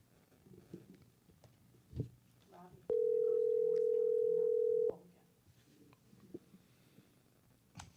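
A telephone line gives a steady two-second tone while a talk-show host calls a guest, heard under low background sounds and faint voices.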